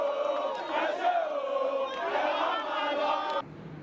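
A dense, unruly protest crowd at the Lekki EndSARS protest roars and shouts continuously, with overlapping voices swelling and falling before dropping abruptly to a quieter murmur.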